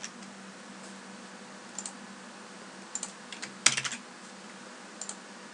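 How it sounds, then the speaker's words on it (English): A password being typed on a computer keyboard at a Windows Server 2012 sign-in, sparse close key clicks with a small burst of quick taps in the middle over a low steady hum. "I'll just type in the password again"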